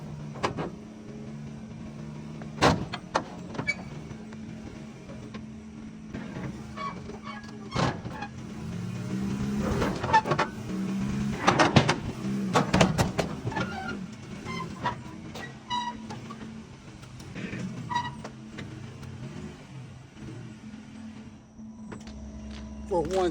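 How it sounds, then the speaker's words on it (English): A truck is driven up onto a trailer during a recovery for a body shop: a low idling engine hum runs throughout, broken by sharp metallic clanks and thumps. "We're going to attempt to drive it on the trailer."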